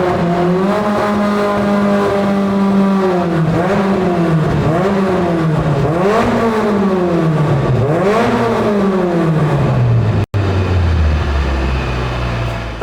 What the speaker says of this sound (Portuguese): Colocou a primeira marcha, deu a primeira, a segunda, a terceira, aí na quarta ele já tirou o pé só para ver como é que o motor está reagindo